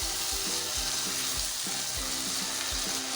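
Soy sauce, chili sauce, vinegar and white pepper mixed in a hot pan for chicken Singapore fried rice: a loud, steady sizzle close by with regular scraping stir strokes repeating every half second or so.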